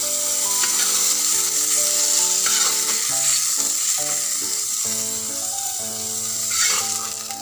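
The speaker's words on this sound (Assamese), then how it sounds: "এতিয়া মাছ ভাজি প্ৰায় হৈছে" Fish from a home pond fries in a pan with a constant bright sizzle and occasional stirring scrapes, continuous for several seconds under background music.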